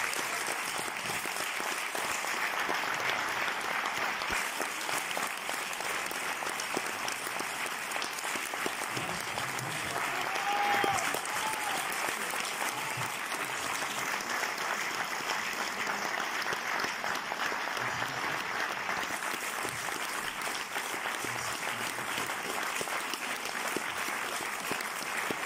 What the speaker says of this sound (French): Sans plus attendre, je vous demande d'applaudir très fort Monsieur Clovis Cornillac.